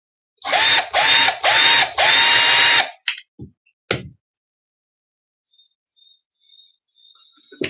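A power drill bores a pilot hole in several short bursts, its whining motor rising and falling between pauses, then a couple of brief clicks and near silence with faint tones at the end.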